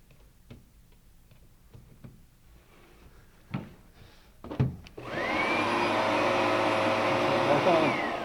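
Oreck Magnesium RS lightweight vacuum cleaner starting up after several clicks and knocks, then running with a loud, steady whine and whirring motor hum that holds to the end.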